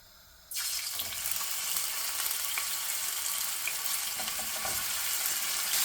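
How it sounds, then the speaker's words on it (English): Thinly sliced chicken shawarma hits two tablespoons of hot oil in a pan, bursting into a steady, bright sizzle after a brief quiet moment and holding at an even level with no talking. "Now we have pan frying the shawarma."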